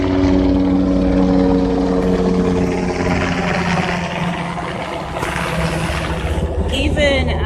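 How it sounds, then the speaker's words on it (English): Helicopters passing overhead give a loud, continuous rotor and engine roar that swells and fades slightly, with a person talking underneath. "sorry about these choppers."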